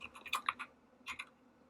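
Keys tapped on a computer keyboard in two quick clusters of light clicks, separated by a short pause, close and fairly quiet.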